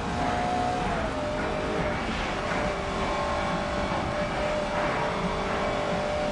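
Several race cars in Grid Legends drive together, with a steady loud engine drone and overlapping tones that rise and fall as cars jostle nearby; no one speaks.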